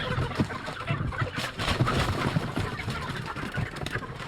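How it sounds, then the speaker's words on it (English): Chickens on a farm clucking and calling in a dense, steady chorus of short bursts, moderately close, with no talk over them. "Crazy chickens."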